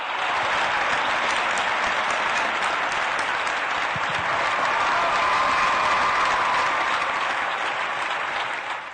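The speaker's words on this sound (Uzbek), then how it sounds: "qahramonimizni yana bir marta olqishlasak" An audience applauds the champion Javohir with loud, sustained, even clapping that fills the hall for about nine seconds before tailing off at the very end.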